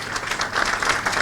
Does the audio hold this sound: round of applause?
yes